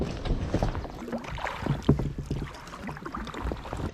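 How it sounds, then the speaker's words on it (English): A kayak pushes off from a beach in Alaska, with paddle strokes splashing and sloshing close by as wind buffets the microphone, and no voices. "Now it's time to kayak out and let the adventure begin."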